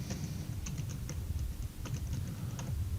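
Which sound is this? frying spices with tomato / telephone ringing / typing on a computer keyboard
typing on a computer keyboard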